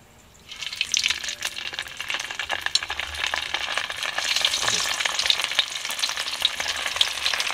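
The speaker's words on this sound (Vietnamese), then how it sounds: "giờ để mình chiên cái chả cốm luôn nha" Green rice sausage patties (chả cốm) frying in a pan outdoors in a field, a loud, continuous crackling sizzle that starts abruptly and keeps spitting and popping throughout.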